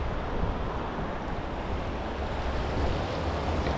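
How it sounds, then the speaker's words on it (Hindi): Water flows below a scenic spot at Eau Coulee near Curepipe, Mauritius, making a steady, broad rushing wash. Some wind noise mixes in, and no one speaks. "देखो वो नीचे पानी भी आ रहा है वहाँ से"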